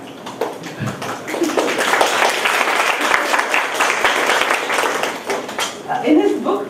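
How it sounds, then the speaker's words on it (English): An audience at a book launch for Professor T V Paul's The Warrior State applauds steadily and loudly, a dense wash of clapping that swells toward the end with a few voices mixed in. "Please welcome him with a round of applause."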